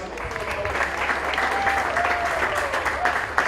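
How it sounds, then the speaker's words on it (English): Audience applause for the teams at a polo club trophy presentation outdoors, a steady, moderately distant round of clapping with a few faint voices mixed in. "let's give both teams one more round of applause"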